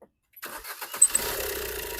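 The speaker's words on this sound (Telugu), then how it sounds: "సింగిల్ సెల్ఫ్లో బండి స్టార్ట్ ఉంది." A 2019 Maruti Ertiga VDi diesel engine in sealed, perfect condition cranks briefly after a click and catches on the first try, then settles into a steady low idle.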